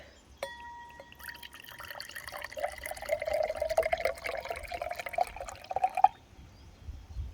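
Homemade fermented cream soda is poured from a bottle, a faint, steady trickle and splash that builds for several seconds and then stops abruptly.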